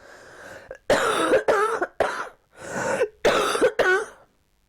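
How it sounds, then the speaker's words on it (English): Someone with a chest infection coughs repeatedly up close, a series of loud, rasping bursts in uneven clusters with short breaths between them. "I'm just gonna cough just for a sec."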